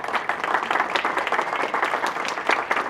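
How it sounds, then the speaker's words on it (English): A crowd claps at a campus campaign kickoff gathering, dense and lively with individual claps popping out of the wash, steady and fairly close for the whole stretch. "Let's give them a round of applause now."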